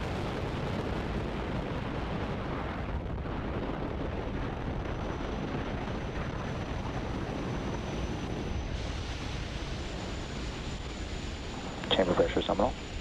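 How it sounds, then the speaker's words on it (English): A SpaceX Falcon 9 rocket lifts off from Launch Complex 39 with a continuous deep, rumbling roar that stays steady throughout. A brief burst of louder crackle comes near the end. "liftoff of Falcon 9"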